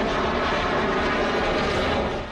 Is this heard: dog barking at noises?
no